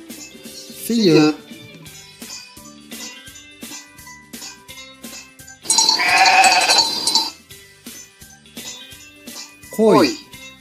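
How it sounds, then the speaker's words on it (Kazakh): A sheep bleats loudly, with one long quavering bleat in the middle, set over soft background music, and short spoken words come at the start and end. "Қой."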